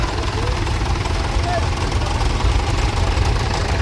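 A David Brown 880 Selectomatic three-cylinder tractor engine idles with a steady, rumbling run at an outdoor show, heard under a public-address announcer's voice.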